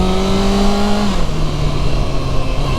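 A 2019 Kawasaki ZX-6R 636 sport motorcycle engine on a test ride, a steady loud whine that drops in pitch at a gear shift and then pulls on, close and continuous with rushing wind noise, no talking.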